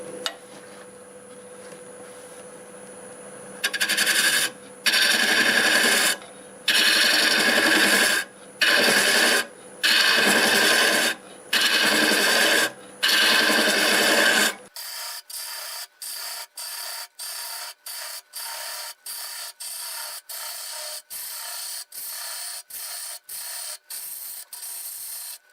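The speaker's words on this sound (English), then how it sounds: "I'm going to use my little hollowing tool. I just put a new bit on it." A hollowing tool with a freshly fitted bit cuts into a spinning wood turning on a lathe at about 700 RPM, giving loud bursts of rasping scrapes in repeated passes, then a quicker run of short, lighter ticking cuts.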